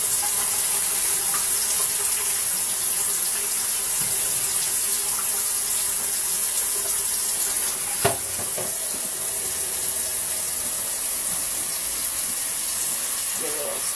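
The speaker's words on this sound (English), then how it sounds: "when I pour this full of water in, it's just going to flow over the clothes" Steady rush of water pouring over clothes in a Laundry Pod washer and splashing out the drain, close by, with a brief knock or clunk partway through and no talking.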